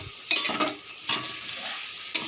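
Spicy semolina with fried peanuts being stirred in a pan, a soft sizzle under scraping spoon strokes, with three louder stirring bursts spaced through a steady frying hiss.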